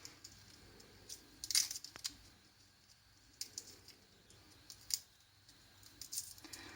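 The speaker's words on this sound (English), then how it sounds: "I'm just going to chop the top and the bottom off the clove of garlic" A knife chops the top and bottom off a garlic clove on a cutting board in a home kitchen, making a few faint, sparse taps spaced a second or more apart against a quiet background.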